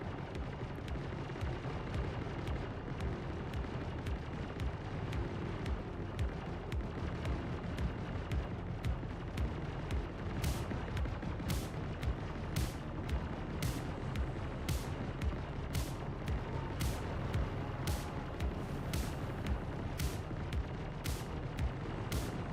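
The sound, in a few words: turret gunfire in the video game Star Citizen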